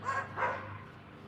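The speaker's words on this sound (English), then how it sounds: "the neighbors' dogs are going nuts because I'm outside" Neighbouring dogs bark outdoors, two quick barks heard at a moderate distance, fading into a quiet background.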